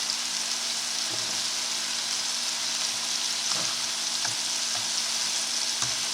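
Scallops sizzle steadily in butter and hot oil in a pan, a dense, even crackle holding at one level throughout, with a few soft stirring knocks and no voices.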